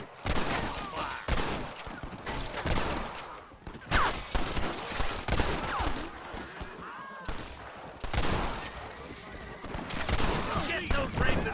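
A Red Dead Redemption gunfight on PS5, with dense volleys of rifle and pistol fire popping in overlapping bursts and short lulls, loud and near, mixed with shouting voices.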